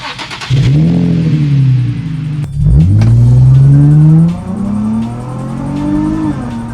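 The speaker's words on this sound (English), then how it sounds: "The exhaust sounds good." A 21-year-old car's exhaust revs hard twice, each rise climbing and then settling into a loud, rumbling idle between pulls.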